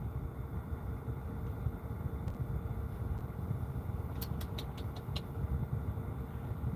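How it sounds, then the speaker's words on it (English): A noisy engine fan whirs on a nearby Kenworth truck, a steady low rumble and drone with a few brief faint high ticks near the end. "Somebody's got a noisy engine fan."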